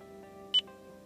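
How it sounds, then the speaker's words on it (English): A vehicle's Bluetooth phone voice recognition system gives a single short, clear electronic beep over a quiet hum, with no talking. "Wait for the beep"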